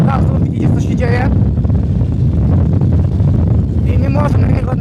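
Yamaha TT 600 E motorcycle engine held at open throttle, a loud, steady, buzzing roar running throughout, with a voice talking briefly at the start and again near the end.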